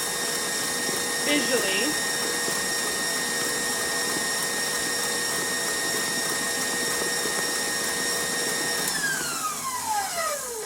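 An electric mixer whirs steadily at high speed, whisking a sugar mixture toward stiff, glossy peaks, with a sustained motor drone that shifts pitch and winds down near the end; a voice briefly speaks over it.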